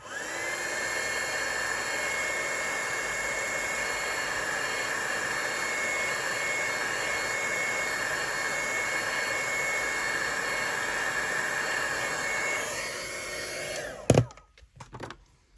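A hair dryer blows on homemade texture paste as a steady, loud whirring drone with a high whine that runs without a break for about fourteen seconds, then winds down and clicks off near the end.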